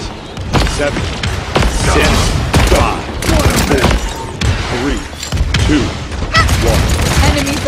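Enemy gunfire in the team shooter game Paladins, repeated loud bursts and booming impacts in irregular clusters, close and heavy, with voices talking over the fight.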